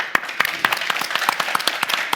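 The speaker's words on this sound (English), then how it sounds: "please join us in a round of applause for Professor Charles Goodhart" Audience applause for Professor Charles Goodhart after a lecture on banking and economics: a small crowd claps steadily with sharp individual claps standing out, close and moderately loud, sustained for a couple of seconds.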